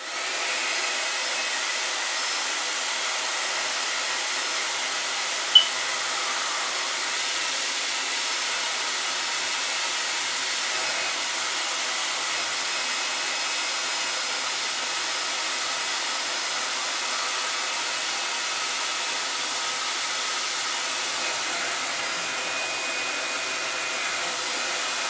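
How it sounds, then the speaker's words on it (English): A handheld blow dryer on its cool-air setting runs in a steady, loud, unbroken whoosh with no change in pitch, held close and alone apart from a single faint click partway through. "Where are you, trusty blow dryer? Hold on, I gotta find my trusty blow dryer. And we're gonna do cool air."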